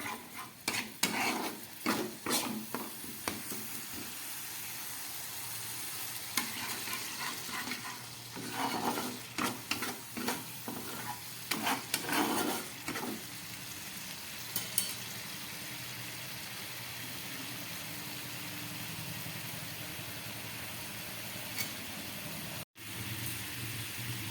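Fish curry gravy for a coriander-leaf bhola fish dish bubbles at a boil in a pan over medium gas, with a steady simmering hiss and sputter, broken early on by stirring scrapes and utensil clatter.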